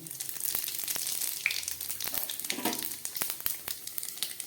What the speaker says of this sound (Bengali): এই তেলের মধ্যে আমি দিয়ে দিচ্ছি দুটো তেজপাতা আর দিয়ে দিচ্ছি কিছুটা পাঁচ ফোড়ন